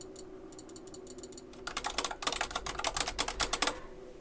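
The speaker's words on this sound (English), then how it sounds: "trying to figure out also keyboard clacks and mouse clicks." Computer keyboard clacking with mouse clicks, close and fairly loud: sparse taps at first, then a dense burst of rapid typing over a faint steady hum, with no voices.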